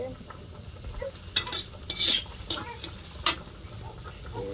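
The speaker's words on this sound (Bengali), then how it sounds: "গরম হয়ে গেছে, পেঁয়াজ দিলাম।" Onions dropped into hot mustard oil in a home kitchen hiss up in a few bright bursts, then settle into a soft, uneven sizzle, close by, with faint clinks of a utensil and no talking.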